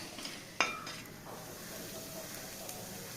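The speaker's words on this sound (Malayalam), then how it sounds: "നമുക്ക് നല്ല പോലെ ഇതൊന്ന് വഴറ്റിയെടുക്കാം" Ginger, green chili and garlic sauté quietly in a heavy-bottomed pan for a beef curry: a soft, low sizzle with a single sharp metallic clink near the start.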